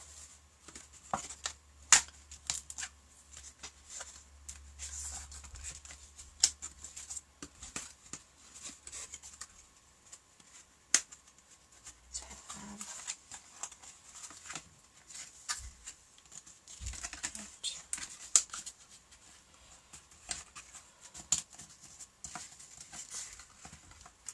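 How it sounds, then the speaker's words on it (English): Paper for a small gift box is folded and creased by hand, with faint soft rustles and light tapping scrapes scattered sparsely over a quiet background. "let's now try and fold this. So I'm just going to do creases."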